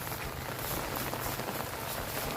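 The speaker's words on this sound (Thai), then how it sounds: "นั่งตากฝนเลยค่ะ นั่งตากฝน" Heavy rain pours during Typhoon Noru over rural fishing ground where a lift net is worked, a dense, loud, unbroken hiss filling the short stretch without any voices.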